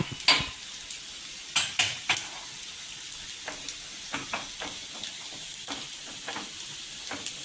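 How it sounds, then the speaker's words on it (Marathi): Spices sizzle in hot oil in a pan while tempering for a whole masoor lentil curry, with a steady frying hiss broken by sharp clinks and scrapes of a spoon stirring against the metal. "तोपर्यंत फोडणी होते"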